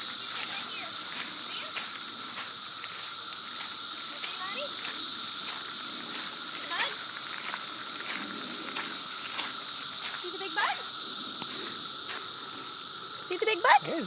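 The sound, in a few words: loud cicadas buzzing in forest trees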